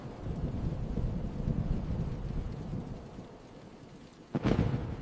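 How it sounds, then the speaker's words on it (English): Cold rain lashes a car windshield in a steady close wash of noise, with rumbling wind and a sudden sharper burst near the end, no voices. "Cold rain lashes the windshield."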